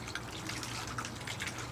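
Water pours from a pitcher into a plant pot, a soft continuous trickle with faint drips, heard close and quiet.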